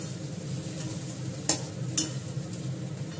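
Chili powder and fenugreek sizzle in a hot pan as fish curry cooks, a steady frying hiss with two sharp scraping stirs about half a second apart, close and with no talk.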